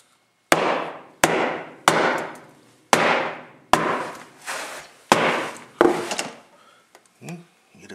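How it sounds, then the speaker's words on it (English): Hammer strikes nailing carpet tack strip down along a wall edge, about eight sharp, evenly spaced blows with short ringing decays, close and loud, followed by a couple of fainter taps. "And you just nail her in."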